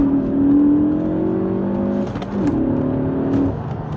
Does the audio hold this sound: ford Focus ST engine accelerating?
yes